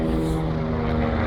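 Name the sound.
helicopter flying overhead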